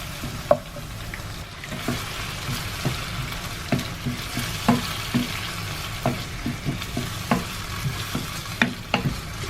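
Liver pieces fry in a hot pan with a constant sizzle, while a spoon stirs and scrapes them in sharp, irregular clicks and knocks that repeat every second or so, close and clear with no talking.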